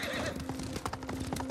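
Rhythmic hooves clip-clop steadily at close range in the video game Ghost of Tsushima, with a horse's whinny rising over a low steady hum.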